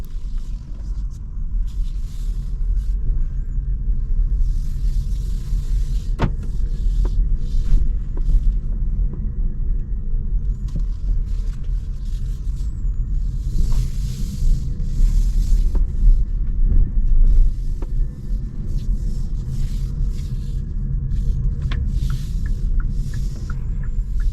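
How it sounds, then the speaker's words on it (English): Interior road noise from a 2024 Kia EV6 Horizon electric car on the move, a steady low rumble and tire hum with faint occasional ticks, no engine note and no talking. "So we're on the move in the 2024 Kia EV6"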